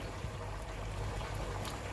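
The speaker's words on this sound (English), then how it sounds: "now I'm going to pour my" Mixed vegetables poured into a pan for fried rice, giving a steady, close hiss and rattle with a little sizzle that runs unbroken for two seconds.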